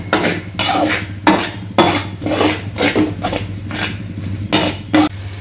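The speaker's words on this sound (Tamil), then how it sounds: "இஞ்சி பூண்டு அதோட பச்சை வாசனை போகிற வரைக்கும் நல்லா வதக்கிக்கணும்" Ginger garlic paste being sautéed in a pan for chicken curry, with rhythmic metallic scraping and clinking of a spoon against the pan, strokes coming roughly every half second, close and fairly loud over a low steady hum.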